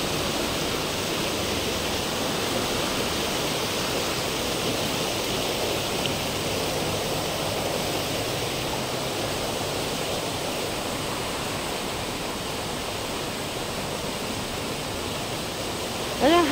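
River water flowing steadily, a broad continuous rushing wash that stays even and fairly loud throughout with no voices.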